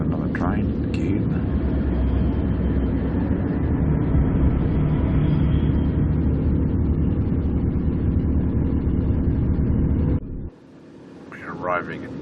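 A passing train near Moss Vale on the Sydney to Canberra line, heard as a loud, steady low rumble and roar lasting about ten seconds that cuts off abruptly, leaving quieter ambience and brief voices.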